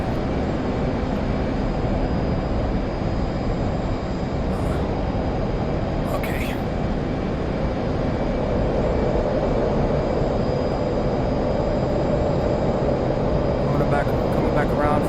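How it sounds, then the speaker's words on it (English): A jet aircraft makes a flyby in a flight simulator video game during night carrier operations, heard as a loud, steady, broadband roar that holds for the whole stretch without a distinct rise or fade. "let's do a flyby"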